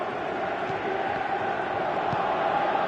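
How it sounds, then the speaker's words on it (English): Steady roar of a stadium crowd in a PS4 football video game, a dense continuous wash of noise at even loudness with a few brief swells. "you can hear how the crowd are reacting to this too"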